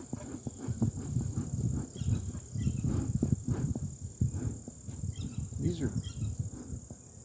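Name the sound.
bees buzzing around opened hive box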